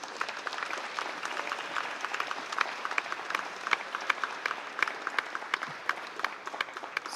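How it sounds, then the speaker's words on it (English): Spectators at the World Wallball Championship applauding the players, a lively patter of many hands clapping at moderate distance, with crisp individual claps popping out of a steady crowd of applause. "big round of applause to all four players"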